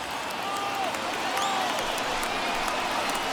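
Baseball stadium crowd of over 39,000 on their feet, cheering and applauding as a continuous roar, with a commentator's voice faintly under it and a few whistles cutting through.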